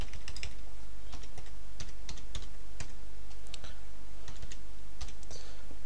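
Steady typing on a computer keyboard while notes are entered into a debt-collection program, with irregular clustered key clicks running throughout, close and clear with no voice.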